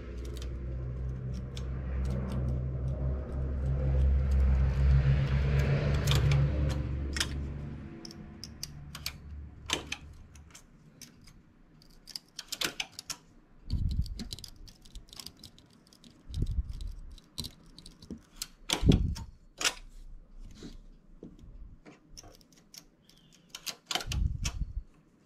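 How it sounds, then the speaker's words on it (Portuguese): Flat-bed knitting machine with its L lace carriage pushed across the needle bed to knit a lace row for a round neckline, giving a long rumbling slide followed by scattered clicks and taps, close and moderately loud with no talking. "É o momento de eu fazer a carreira com o carro L."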